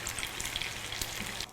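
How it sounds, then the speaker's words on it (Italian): Eggplant meatballs fry in hot oil, giving a steady, close, bright crackle and bubbling hiss with no pauses. "continuiamo a friggere altre polpette fino a esaurirle tutte"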